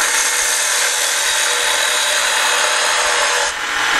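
A bowl gouge peels a heavy cut from wood spinning on a lathe, a loud, steady, hissing rush of shaving that runs continuously and dips briefly near the end.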